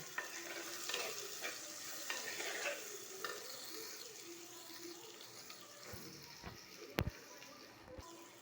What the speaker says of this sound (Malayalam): ഇത് ഇട്ടൊന്ന് നല്ലവണ്ണം വഴറ്റാം